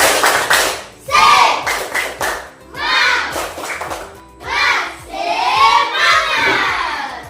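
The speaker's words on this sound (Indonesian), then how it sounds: "kita tepuk semangat dengan penuh semangat" A classroom of children stands and performs the tepuk semangat spirit clapping chant, bursts of rhythmic claps and shouted chanting voices in several loud phrases separated by short pauses.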